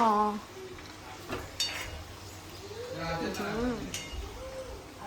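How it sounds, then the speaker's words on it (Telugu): Eggplant fries in a pan with a soft sizzle and occasional stirring clinks, heard under people talking nearby. "వంకాయ ఫ్రై అంతే అంతే"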